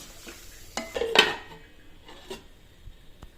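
Chicken pieces with tomato are stirred in a pot and a lid is set on top, with a few sharp metallic clanks and scraping knocks close by over a faint background sizzle, no talking.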